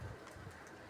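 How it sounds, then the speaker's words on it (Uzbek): A pigeon gives a single short, low coo right at the start, close by, followed by faint background murmur. "Kundan kunga qushlar oshilyapti"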